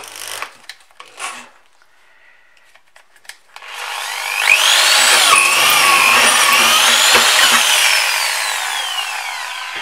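A 5.5 mm drill bit enlarging a hole during a Volvo fuel filter job, starting after a few faint knocks and then whining and grinding loudly and steadily for several seconds before easing slightly.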